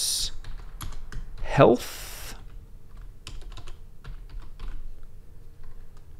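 Keys clack on a computer keyboard in short, irregular bursts while someone talks over them, and one mouse-like click stands out partway through.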